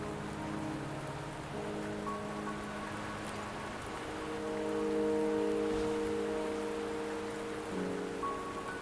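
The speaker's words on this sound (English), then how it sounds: "Don't worry, the rain won't last much longer." Rain falls steadily in the video game Wuthering Waves, a continuous soft patter under sustained musical tones that swell slightly midway.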